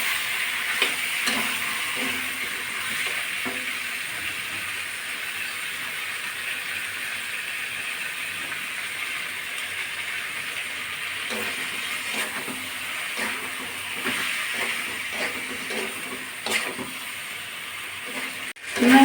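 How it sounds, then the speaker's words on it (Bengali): Spice paste fries with pointed gourd in oil, a steady close sizzle with intermittent stirring scrapes and spoon taps against the pan throughout. "এখন আমি মশলাটা দিয়ে ভালো করে কষিয়ে নেব"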